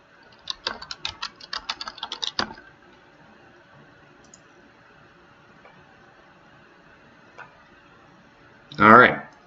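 Password typed on a computer keyboard, a quick close run of a dozen or so key clicks, followed by near silence and one later louder thump.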